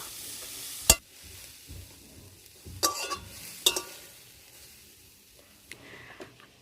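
Cabbage fries lightly in a pan, a low background sizzle with a few scattered sharp stirring clacks and scrapes, near and moderately quiet.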